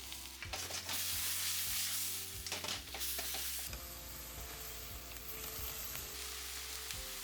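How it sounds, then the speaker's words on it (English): Lamb slices sizzle and crackle steadily in a hot pan for Japanese Jingisukan, with a loud continuous fry broken by a few stirring scrapes and bumps. "Cook the lamb for about 4 minutes."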